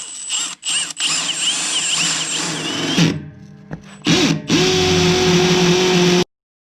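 A power drill bores holes in a concrete floor for compressor anchors, running loud and close in whining bursts that start, stop and restart, then ends in a sudden cutoff.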